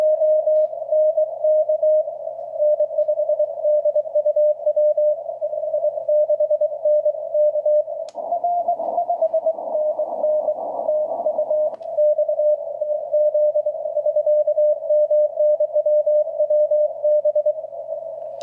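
Morse code from amateur station TZ4AM on the 40 meter band, a strong steady CW tone keyed continuously in rapid dits and dahs, loud and clear, with a short patch of added noise midway.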